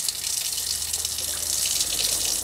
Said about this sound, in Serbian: imam ovu finu slavinu koja radi preko pumpe, koja ima tekuću vodu, koja ima pumpu od 12 volti